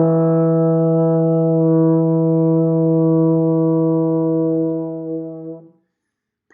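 A baritone horn sounds a single sustained E natural, played on the second valve, a full steady tone held for about five seconds before fading out, alone and close.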